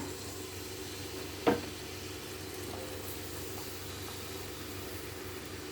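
A steady, hissing sizzle of onions, green chillies and seasoning seeds frying in hot oil for jackfruit seed curry, broken by one sharp clatter early on.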